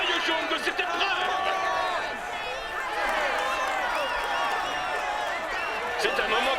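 Crowd applause and cheering for the yellow jersey winner in the Tour de France 2020 video game, a steady wash of clapping and voices held at an even level throughout.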